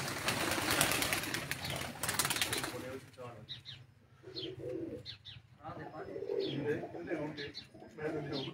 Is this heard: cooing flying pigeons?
yes